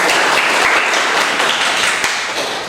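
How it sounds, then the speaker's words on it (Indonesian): Students clap together in a school classroom, a loud, dense burst of applause that holds steady throughout and eases slightly at the end. "Beri tepuk tangan buat"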